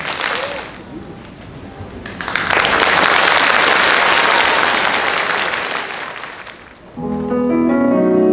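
An audience at a concert breaks into applause for a piano four-hands duo, swelling into loud, steady clapping that tapers off and gives way to the piano's opening notes at the end.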